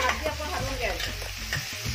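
Chickpeas and curry leaves frying in a pan, stirred with a spoon, a continuous close sizzle with scraping strokes running through it.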